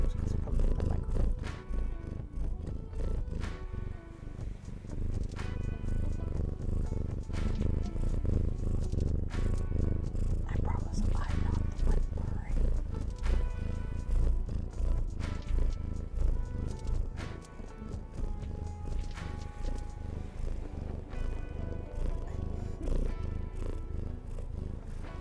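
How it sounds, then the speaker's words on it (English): A cat purrs close to a microphone in a long, steady rumble with rhythmic breathing pulses. Faint clicks and rustles are heard alongside the purring. "There's your cat purrs for the stream."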